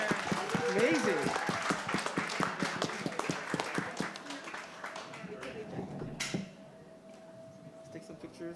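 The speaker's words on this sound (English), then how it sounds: "Round of applause" Applause and clapping for competitors at a chef cooking show, a burst of crowd clapping with a few cheers that thins out over several seconds, voices talking underneath.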